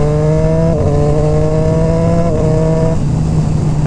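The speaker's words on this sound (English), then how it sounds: "The quick shifter though sounds so nice." Triumph Street Triple 765 RS, a 2018 U.S.-version motorcycle, accelerating hard with loud, close engine tones climbing steadily, broken by brief quick-shifter upshifts near one and three seconds, continuous and without talk.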